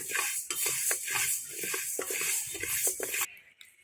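Grains scrape and rattle steadily as they are stirred in a dry pan while roasting for narippayir laddu, a dense continuous patter with periodic scraping strokes, close and fairly loud, ending abruptly near the end.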